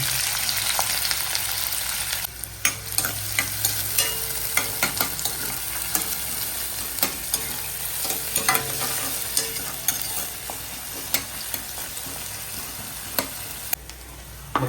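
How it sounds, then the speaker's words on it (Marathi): Chillies and onion fry in hot oil in a kadai, a continuous close sizzle broken by frequent sharp spoon scrapes and clinks against the pan, with no voices. "कढाई गरम झाल्यावरती मिरची टाकली कांदा"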